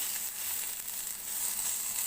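Apple chutney frying in oil in a pan, a faint steady hiss of sizzling that holds evenly throughout, quiet and without any voices.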